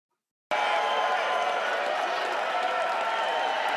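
A large concert crowd roars and cheers after a sudden start, a dense, steady wall of voices and applause that holds loud to the end.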